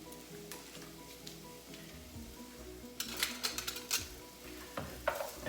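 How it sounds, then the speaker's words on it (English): White onions sizzle and crackle softly in extra virgin olive oil with a little leftover garlic, a steady low frying hiss broken by brighter clinks and stirring scrapes in the second half. "And this is just cooking in the extra virgin olive oil."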